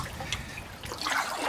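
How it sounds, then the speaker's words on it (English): Water trickles and drips from the edge of an outdoor ledge in January, a close, uneven dribble that swells toward the end, with no voices. "Water is dripping from the edge of this ledge."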